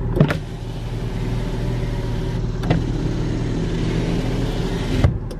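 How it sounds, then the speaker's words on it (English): Driver's side power window on a 2004 Jeep Liberty hums steadily as its motor runs, with small clicks at the start, middle and end over a low idling engine, close and continuous. "let's try my driver's side window"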